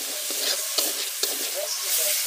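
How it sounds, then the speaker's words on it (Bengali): Potato, chopped tomato, ginger-garlic, onion, chilli, bay leaf and coriander for a chicken curry fry in a pan, giving a steady close sizzle broken by a few sharp stirring scrapes. "এগুলো ভালো করে ভেজে নেব।"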